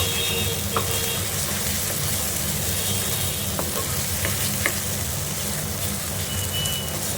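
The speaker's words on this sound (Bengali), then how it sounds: "একবার বাড়াতে হবে একবার কমাতে হবে এরকম করে নাড়িয়ে নাড়িয়ে যখন দেখবো ফ্রাই হয়ে এসছে" Green pea paste for kochuri frying in a pan, giving a constant dense sizzle with stirring and scraping strokes and occasional soft knocks, close by and with no talk.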